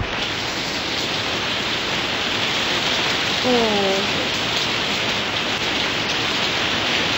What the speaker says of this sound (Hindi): ये देखो गाइस कितनी तेज बारिश आ रही है